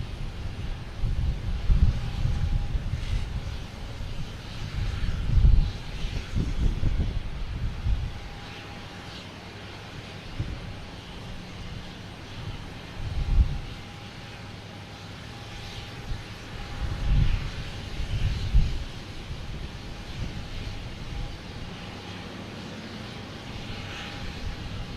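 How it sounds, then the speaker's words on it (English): A Delta airliner arriving from Athens at Boston Logan Airport, a broad, steady jet roar that swells and fades in waves over the whole stretch, mixed with wind buffeting the microphone, with no voices. "This is Delta coming from Athens."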